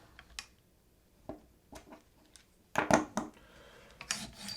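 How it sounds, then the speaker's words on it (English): A rifle's long bolt carrier group slides out of the upper receiver after the charging handle is loosened, giving faint metallic scrapes and clicks, then a louder sliding clatter near the middle and a last scrape, close and quiet. "We slide our bolt carrier group out."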